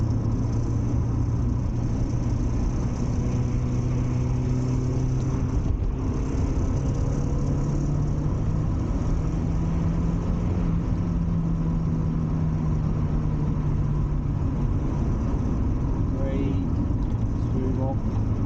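Mazda MX-5 NA engine driving on a winter road, a steady close drone with rising and falling pitch as the car pulls through corners, heard continuously with a person talking over it.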